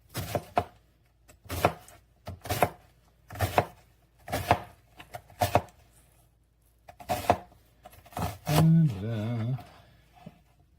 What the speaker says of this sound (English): that's how you chop an onion